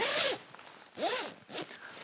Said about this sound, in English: when you're in the sleeping bag, you zip everything up